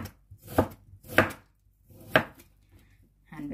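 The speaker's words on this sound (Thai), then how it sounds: "ยายจ๋าก็จะหั่นไก่แบบนี้เลยนะคะแข็งๆอย่างนี้เลยหั่นบางๆ" A knife chops firm chicken meat thinly on a cutting board for chicken meatballs, three or four distinct, crisp strikes spaced unevenly, close and loud, with a faint clink at the end.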